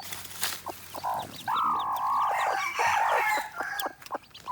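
Wild junglefowl chicks and hens at home, high cheeping chicks and clucking hens calling close by, with a longer drawn-out call in the middle and steady chirps throughout.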